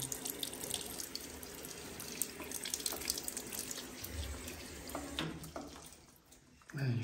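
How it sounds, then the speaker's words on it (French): Water runs and hisses from a leaking plumbing fitting on a pressurised line in an apartment, a steady faint trickle with no talk over it. "c'est pas normal que j'ai l'eau qui sort de là"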